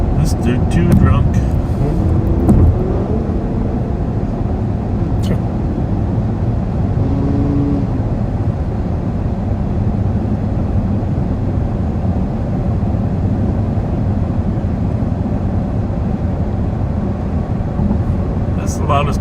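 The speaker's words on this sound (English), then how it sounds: "That's the loudest car we heard tonight." Loud car engine roaring past on a street at night, strongest in the first few seconds and then settling into a lingering rumble with low traffic noise, while people talk over it.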